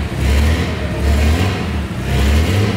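A Chevrolet Omega 4.1 with a turbo kit and no exhaust muffler revs loudly and close by, a deep, rough engine roar that swells and dips in uneven waves, with no talk.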